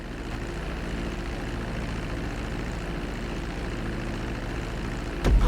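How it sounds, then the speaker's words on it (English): A propeller airplane taxis on a runway in GTA 5, its engine a steady droning hum, loud and close throughout, with a brief louder thump at the very end and no speech. "Now let's get the plane off the runway."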